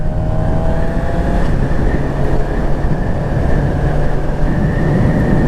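A 2023 Suzuki GSX-R 600 motorcycle ridden over gravel, its engine droning steadily and loudly under constant wind and road rumble throughout, with no talking.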